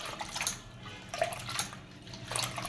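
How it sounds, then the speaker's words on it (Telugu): Lentils are washed by hand in a bowl of water for a bottle gourd dal, with soft sloshing and splashing swirls in a few quick bursts, close and quiet. "దీన్ని మంచిగా ఒక 2-3 సార్లు బాగా కడుక్కోవాలి"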